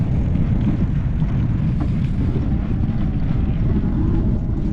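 Strong, steady wind roaring across the microphone, a constant low buffeting rumble throughout.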